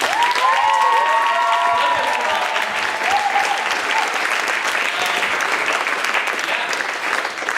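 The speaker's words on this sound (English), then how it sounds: "let's give a round of applause to everyone who performed" An audience at a coffee house show applauds performers with sustained, dense clapping and some cheering, steady and fairly close throughout, with a voice briefly calling out near the start.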